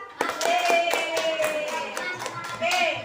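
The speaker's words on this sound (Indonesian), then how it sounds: "Baik, kasih tepuk masyarakat" A school class clapping a patterned group clap, sharp rhythmic hand strikes in a quick sequence, with a voice speaking over part of it.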